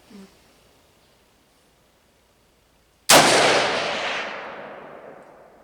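A single sharp gunshot from a Savage MSR15 Recon rifle firing hand-loaded ammunition outdoors, loud and close, followed by a long fading echo, after a quiet stretch with a faint sound at the very start.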